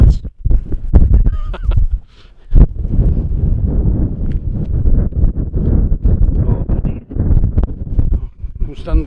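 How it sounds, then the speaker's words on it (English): Wind buffeting a microphone outdoors during a metal detecting outing, a loud, rough, low rumble that gusts and drops out in places, with people talking over it. "Stand this way, Harrison, because of the wind."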